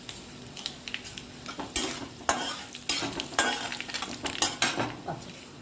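Urad dal and mustard seeds fry in hot oil, with a sizzling hiss and a spoon stirring and scraping the pan in repeated bursts, close and fairly loud, with no talking.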